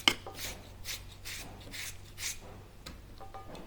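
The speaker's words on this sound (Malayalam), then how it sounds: "അത് ഇങ്ങനെ അരിഞ്ഞെടുത്ത് നമുക്ക് തോരൻ വയ്ക്കാം" Thin slicing of chayote (chow chow) for a Kerala thoran, a run of soft, evenly spaced knife strokes through the flesh against a board, close and moderately quiet with no talking.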